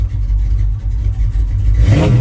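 A 1986 Chevrolet Silverado C/K 10 engine running with a deep low idle rumble, then climbing into a louder rev near the end, heard close and without talk.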